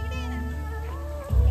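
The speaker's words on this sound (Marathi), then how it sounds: "मांजरच आहे" A pet cat meows up close, a drawn-out wavering call that ends in a louder burst of low rumbling noise.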